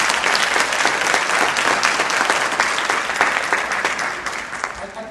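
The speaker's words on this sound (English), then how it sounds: "give a round of applause for this panel" Steady applause from a conference audience honoring a panel, dense and continuous clapping filling the room for several seconds without a break.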